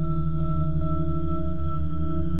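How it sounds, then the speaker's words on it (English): A sonified space recording of the planet Uranus: a dense, eerie drone of layered steady tones hums on without change, then cuts off abruptly at the end. "Here's the sound of the planet Uranus."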